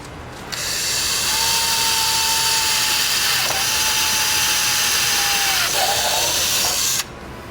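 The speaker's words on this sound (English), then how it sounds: "So he's going to do his first pre-drill now." A power drill pre-drills holes in a BMW front lip, making a loud, close, sustained whine that runs for about six seconds with two brief dips before cutting off.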